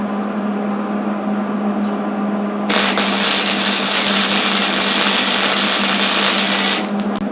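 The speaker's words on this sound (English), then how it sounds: "So I'm going to weld all the parts together" Welding steel swage die parts together for knife-making, a loud, constant buzzing hiss that suddenly swells at about the third second and holds steady before cutting off near the end, over an underlying mains hum.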